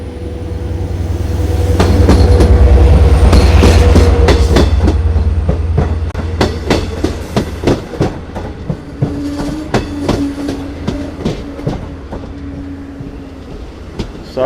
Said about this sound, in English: Okay, here comes our train.